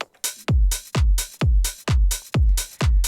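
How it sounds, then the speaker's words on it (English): House music drums with a heavy kick drum thumping on every beat, hi-hats and claps ticking between the kicks; a loud, steady four-on-the-floor groove with no talk. "So you can hear the all sounds of a drum kit."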